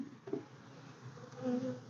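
Honey bees buzzing around an opened hive while frames are handled, a soft steady drone with one or two nearer bees passing close by and humming louder for a moment.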